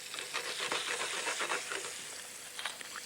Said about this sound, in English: These need to sizzle just for a moment so they take a little bit of colour.